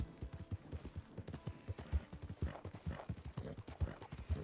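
Hooves of a horse clip-clopping in a video game with wild horses to catch and tame, a steady rhythmic trot of moderately close, even beats heard alone.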